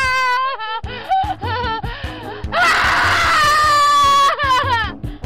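A person screaming and wailing in a house, with long, loud, strained cries broken by short gaps, rising into a sustained shriek near the middle before tapering into shorter sobbing wails.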